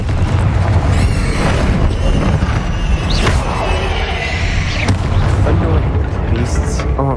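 Incendio fire spells burst in Hogwarts Legacy combat, booming whooshes and impacts repeating over a constant rumbling battle bed, with brief voice-like calls mixed in.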